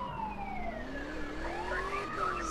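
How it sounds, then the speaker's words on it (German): Police car siren from the video game GTA 2, a steady wailing tone sweeping up and down continuously over a low rumbling game background, loud and close throughout. "So, Polizeiauto."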